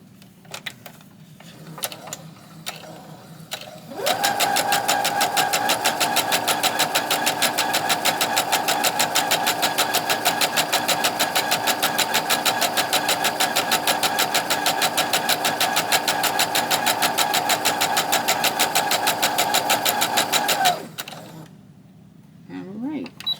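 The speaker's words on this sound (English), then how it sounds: "So I'm going to sew the other two together." A sewing machine stitches fabric pieces together for an address book cover, running steadily and close for about seventeen seconds in an even, fast mechanical whir, with brief handling noises before and after.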